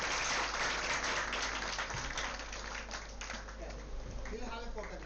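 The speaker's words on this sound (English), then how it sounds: "Give them a big round of applause." An audience at a palliative care seminar claps, a dense sustained burst of many hands that fades slightly toward the end, with a voice faintly under it.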